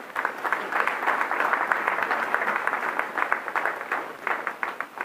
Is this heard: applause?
yes